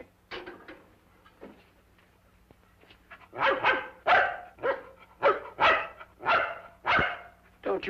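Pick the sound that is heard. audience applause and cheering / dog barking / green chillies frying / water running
dog barking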